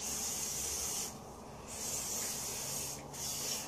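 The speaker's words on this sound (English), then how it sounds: "I'm going to use my shea butter spray that I always use." Shea butter spray hisses onto hair in two bursts separated by short pauses, each a close, bright, continuous spray.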